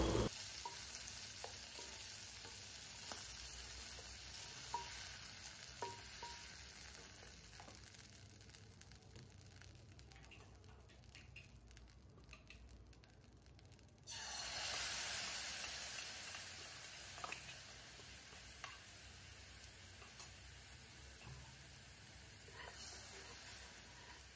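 Spice masala frying in a kadai after prawns have been cooked, a steady close sizzle with scraping and stirring sounds, briefly louder midway as the paste is worked in the hot oil.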